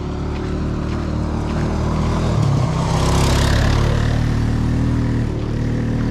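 A four-wheeler ATV drives back and forth in an icy neighborhood, its engine droning steadily and swelling louder as it passes by partway through, with no talk.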